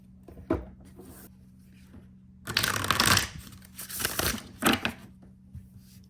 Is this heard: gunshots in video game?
no